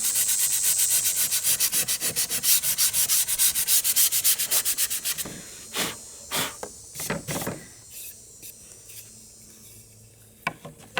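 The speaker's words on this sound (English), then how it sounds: "I'm gonna go ahead and do some sandpaper and scuff" Sandpaper rubs across a wooden nightstand in fast, even back-and-forth strokes, loud and close, then slows to a few separate, irregular passes with brief pauses.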